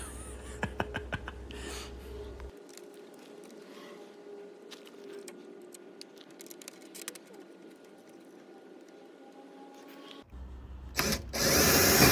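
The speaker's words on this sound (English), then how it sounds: "Now I'm gonna go ahead and drill a pilot hole." A power drill bores a pilot hole into a vineyard fence, a sustained whirring run of several seconds at moderate distance, with clicks and handling noise before it and a louder burst at the end.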